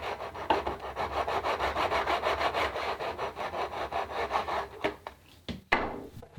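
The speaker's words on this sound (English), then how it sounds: "Using a hacksaw, gently cut down to that plastic layer at a diagonal angle." A hacksaw cuts a plastic KeyKeg in steady back-and-forth rasping strokes, close and fairly loud, slowing into a few scattered scrapes and knocks near the end.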